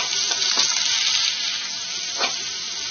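Onion pieces fry in hot oil with curry leaves and green chilli, a loud steady sizzle with brief surges as the pan is stirred, heard up close without talking.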